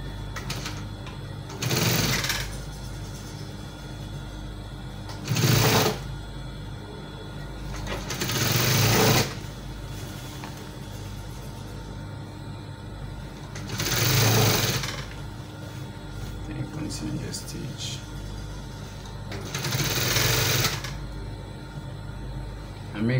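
A sewing machine stitches a curved V neckline in several distinct bursts of a few seconds each, with steady quieter pauses between runs, close and clear.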